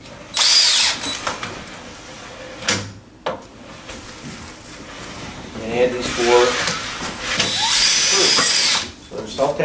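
A power drill whines in short high-pitched bursts as self-tapping screws are driven in during an air conditioning installation, with a person talking between the bursts.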